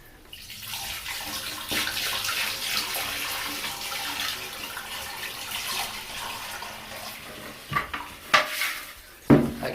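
Water draining away down a pipe in a home with multiple leaks under repair: a steady gurgling rush, moderately loud, ending in a few louder clunks and splashes.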